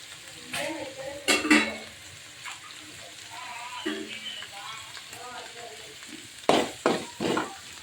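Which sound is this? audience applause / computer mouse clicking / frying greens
frying greens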